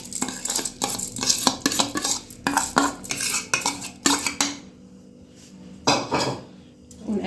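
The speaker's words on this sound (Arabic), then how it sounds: "ونقلب." A spoon scrapes and clinks against a pot while washed white rice is stirred, making a series of rhythmic metallic scrapes and knocks, close and fairly loud, with a brief pause near the end.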